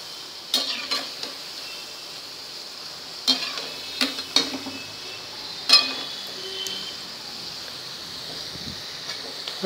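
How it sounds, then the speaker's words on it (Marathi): Bhaji deep frying in oil, a steady hiss of bubbling oil punctuated by several sharp clinks and scrapes of a slotted spoon stirring the fritters, close up with no talking. "हलवल्यामुळे काय होतं, सगळीकडे सारखी तळली जातात भजी."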